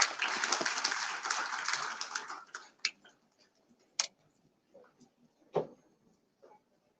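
A conference audience in New Delhi gives a dense round of applause that dies away after a couple of seconds, leaving a few scattered, isolated claps in near silence.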